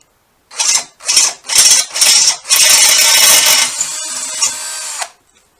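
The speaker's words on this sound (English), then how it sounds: "No pressure on the drill then, it just cuts its way through quite easy" A power drill enlarges a hole in a Suffolk Sport Glide motorcycle part, starting with four short whirring bursts and then running in one steady grinding cut that eases off before stopping, loud and close.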